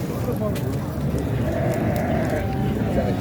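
Sheep bleating at an outdoor sheep and lamb market in Khachmaz, several scattered bleats amid a busy crowd hubbub, with people talking throughout.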